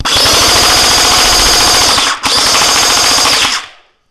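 A custom bullpup-converted SKD AK47 toy gel ball blaster running on an 11.1 battery fires a loud, rapid full-auto burst, breaks off for an instant, then rattles on again before stopping.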